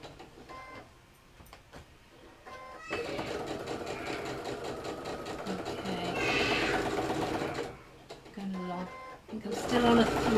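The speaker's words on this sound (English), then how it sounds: "still on a 3 because Sarah's machine is not liking all the thicknesses" Domestic sewing machine set to stitch length 3, stitching a fabric mug bag through thick pinned layers. It runs in bursts with short pauses, a steady mechanical whirr at moderate level, and a voice talks between the runs.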